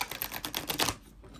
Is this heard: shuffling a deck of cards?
yes